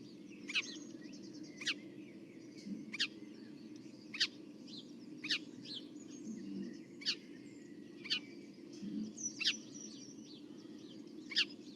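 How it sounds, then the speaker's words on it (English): House sparrows chirp in a garden or green space, short sharp chirps repeating roughly every second at moderate distance over a low steady background hum. "it's quite likely to be house sparrows."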